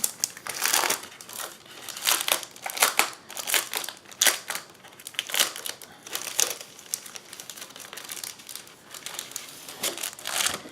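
Sheets of Stampin' Up! foil crinkle and crackle up close in irregular bursts, with short pauses between them, steady over several seconds with no talking.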